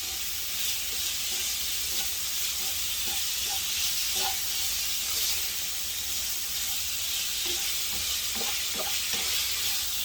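Vegetables for lo mein sizzle and fry in a pan, with a steady broadband hiss throughout and scattered clicks and scrapes as they are stirred, close and continuous.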